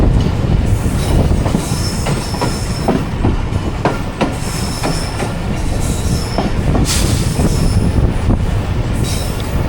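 Hazara Express train rushing through a station at around 110–115 km/h with the loco in front, a loud sustained roar of wheels and carriages with rhythmic clatter and squealing, no voices.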